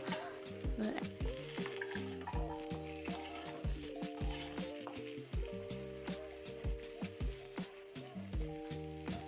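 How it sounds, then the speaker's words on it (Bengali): Onions and potatoes fry in a pan with cumin and dried chili. A continuous sizzle sits under repeated clinks and scrapes of a spatula stirring the pan, which come in an irregular rhythm close by. "জিরে ফোড়ন, শুকনো লঙ্কা, তারপর পেঁয়াজ দিয়ে পেঁয়াজটাও ভালো করে লাল করব"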